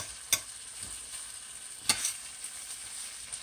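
Rice tipped into a hot frying pan for shrimp fried rice: two sharp crackling bursts rise over a low, steady sizzle.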